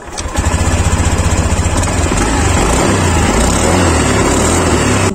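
A 2023 Honda Beat scooter engine runs steadily and loud at close range, a continuous buzzing drone with a fast, even pulse and no talk.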